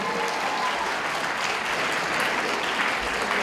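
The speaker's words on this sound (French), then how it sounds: "On l'applaudit encore une fois." Another round of audience applause, dense and even, packed clapping at steady volume from start to finish with no pause.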